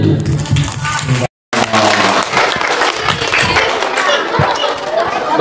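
An audience at an Isra' Mi'raj religious lecture bursts into dense, sustained clapping after a brief cut, a loud crowd applause that carries on with some chatter and someone speaking over it.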